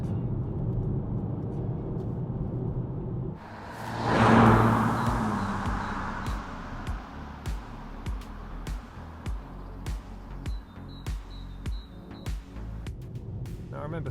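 A Volkswagen Golf R32 with its VR6 engine drives along a road, a steady engine drone swelling in a loud pass around the middle and then settling into a hum with regular clicks and thumps.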